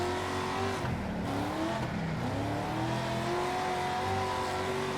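Dirt racing car engine in World of Outlaws, a continuous revving drone with shifting pitch as the car accelerates and slides, loud and alone without talk.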